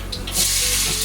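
Chopped onion dropped into a hot pan in a home kitchen, a sudden loud hiss and sizzle that swells and holds steady, heard close up.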